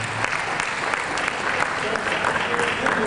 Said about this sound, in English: Please clap for GTI again.